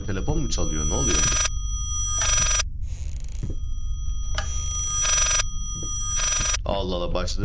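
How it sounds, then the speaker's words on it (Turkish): Telephone in the horror game Layers of Fear ringing repeatedly in loud, evenly spaced bursts over a low ambient drone, with someone talking briefly between rings. "Oğlum aynı telefon mu çalıyor?"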